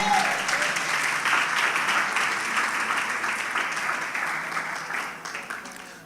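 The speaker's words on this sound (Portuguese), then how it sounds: "Quem recebe, aplaude o nome do Senhor." Church congregation applauding during a worship service, a steady, dense wash of clapping that holds strong and even for several seconds before easing slightly at the end.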